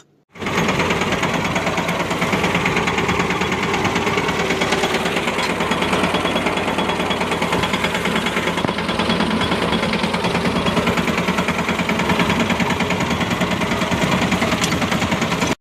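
A loud, steady tractor engine runs close by, a continuous rapid knocking drone that holds evenly throughout with no talking.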